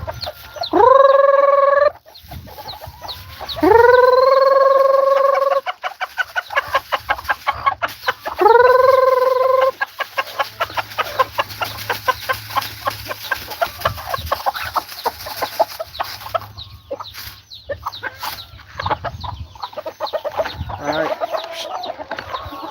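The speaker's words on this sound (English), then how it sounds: "we're going to toss down some rice for these chickens that are approaching" Native chickens cluck busily nearby with a few loud rooster crows early on, followed by a dense run of rapid pecking and clucking sounds as they eat rice tossed on the ground.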